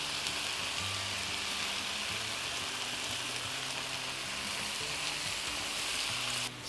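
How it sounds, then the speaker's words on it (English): Banana curry sizzling in hot oil with spicy chili and curry leaves, a loud, steady crackling fry that runs on without break and with no talk over it. "So I'm going to let this sizzle for a while. It's going to fry with the spicy chili, the aromatic curry leaf."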